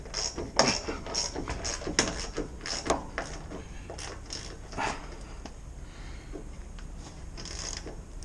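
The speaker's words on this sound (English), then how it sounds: "now I got my 9/16 socket. I'm just gonna tighten these up till that head pulls down in there a bit." Carriage bolts being tightened on a soft wash and pressure wash trailer with a ratchet and 9/16 socket: bursts of rapid, close mechanical clicking with brief pauses between strokes, and no talking.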